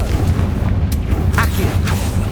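Confringo blasting spell explosions in Hogwarts Legacy, a loud continuous rumbling boom with a few sharper cracks layered on top, filling the whole stretch.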